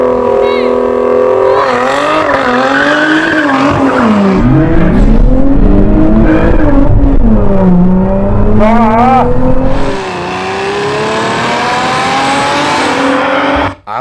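Sports cars, including a Toyota Supra, launch hard in a drag race, loud engines revving and rising through gears with tire squeal, sustained and close, then cutting off abruptly near the end.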